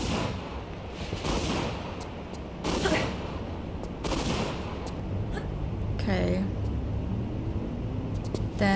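Enemy gunfire in Tomb Raider 3 on a city level: a few sharp shots crack out at intervals over a steady background, with a person talking throughout.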